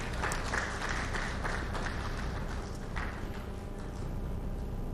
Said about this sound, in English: I thought that I will get some clap at this point.